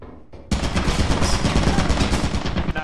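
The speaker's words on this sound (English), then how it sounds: "I think there's a turret down there" A video game turret machine gun opens up abruptly after a brief quiet moment, a loud, close, continuous burst of rapid automatic fire that keeps going to the end.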